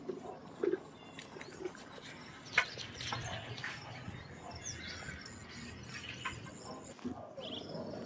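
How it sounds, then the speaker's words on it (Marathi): Sparrows chirping in the early morning, faint scattered tweets over a quiet outdoor background with a few brief louder calls. "त्यानंतर चिमण्यांचा किलबिलाट आणि माकडांचा"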